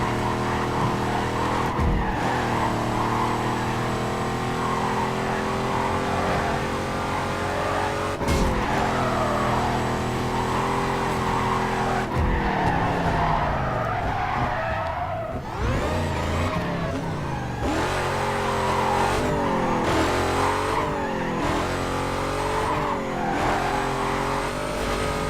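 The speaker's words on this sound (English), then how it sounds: "this game has some good engine audio" A racing game car engine drones and revs continuously, its pitch climbing and dropping through gear changes, while tires squeal and skid in long smeared bursts through corners, loud and close throughout.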